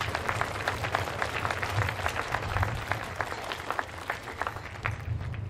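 Sustained audience applause at a commemorative vigil marking Dr. Martin Luther King Jr.'s passing, dense steady clapping from a sizable crowd that continues throughout, with a low hum underneath.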